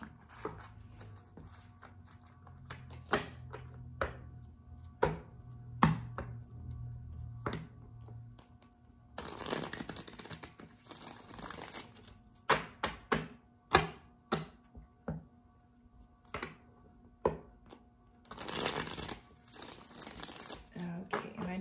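Tarot cards being shuffled in a series of crisp riffling bursts and taps, with quiet crinkling and a low hum underneath.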